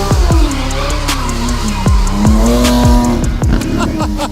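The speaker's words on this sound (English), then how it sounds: "Let's see if we can catch some donuts back there." An AMG car doing donuts at the Goodwood Festival of Speed, with a loud engine roar, repeated squealing tires and rhythmic rev surges close by.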